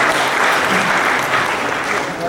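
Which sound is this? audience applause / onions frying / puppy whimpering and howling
audience applause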